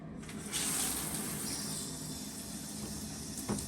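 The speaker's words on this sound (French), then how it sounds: "Et c'est vraiment la dernière étape de bien rincer les cheveux." Water runs steadily while rinsing oil out of hair during a wash several days after a hair transplant, a soft continuous low-pressure gush of tap water close by, with no talking.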